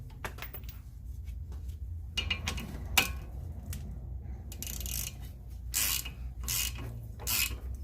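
Steel bolts, 12mm, being threaded and turned into a rusted, stuck brake rotor, giving ratcheting clicks and metallic scraping in irregular bursts, close and moderately loud, with a sharp clank partway through.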